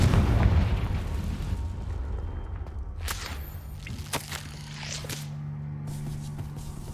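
A Confringo fire spell explodes in the Hogwarts Legacy video game, with sharp cracks and booms in the middle stretch over a steady low game rumble and a sustained hum.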